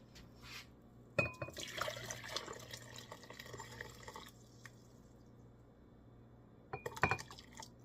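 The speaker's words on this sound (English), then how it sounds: "I have some boiling water over here that I'm going to dump into" Boiling water is poured into a glass dish for growing crystals. A sharp clink opens a few seconds of splashing and trickling, then quiet, followed by another burst of clinking and pouring near the end.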